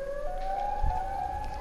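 A steady, wailing siren tone from the Siren Head creature in Garry's Mod holds at a fairly loud level throughout, with a faint low thump partway through.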